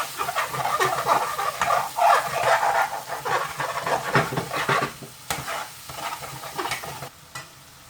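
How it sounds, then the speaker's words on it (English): Spices sizzle and roast in a pan for garlic chilli chicken curry, a steady close frying hiss broken by repeated scraping and stirring strokes that thin out toward the end, with no talking. "Still cooking them spices, still roasting them."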